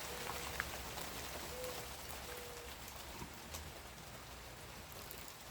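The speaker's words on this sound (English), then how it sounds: "I don't know if y'all can hear that noise, but it's rain." Rain falls outdoors as a faint, steady hiss of patter, soft and even throughout, with a couple of distant bird chirps and no talk.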